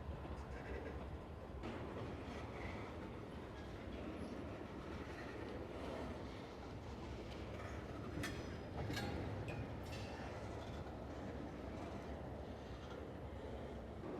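A train rolls slowly out of a rail yard in Shenandoah, a steady low rumble of wagons with faint rhythmic clatter and a few brief high wheel squeals, continuous and fairly distant.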